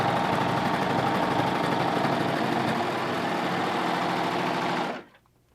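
A Baby Lock serger stitches through five or six stacked layers of denim, its motor whirring in a fast, steady mechanical buzz up close and loud for about five seconds before stopping abruptly.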